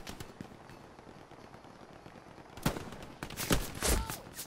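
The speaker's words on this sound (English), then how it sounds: "I'm getting shot from behind" Gunfire in the World War II shooter Hell Let Loose: faint background noise, then a sudden cluster of loud shots and bursts near the end.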